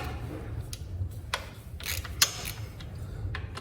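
An 8mm Allen key working the bolts of a motorcycle foot peg: soft, irregular metallic clicks and ratcheting ticks at close range over a low steady hum, with no talk.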